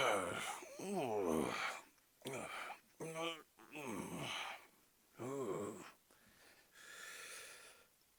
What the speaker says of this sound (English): There's a lot of grunts and groans.